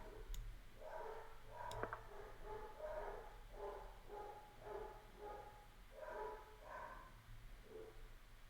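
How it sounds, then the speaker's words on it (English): Dogs barking in a steady series of repeated barks at a distance, faint and muffled under a low background hum, with a couple of sharp clicks early on. "Man, the dogs are difficult."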